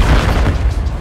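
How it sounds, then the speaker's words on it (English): Main cannon of a vehicle firing in Battlefield Hardline, a loud heavy boom with a rumbling, mechanical tail filling the whole moment, close and powerful. "LB to fire the main cannon."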